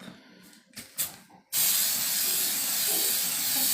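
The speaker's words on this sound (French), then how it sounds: "on va essayer une petite bombe" After a few light taps, an aerosol spray can lets out one long, loud, steady hiss onto hair, close up and continuing to the end.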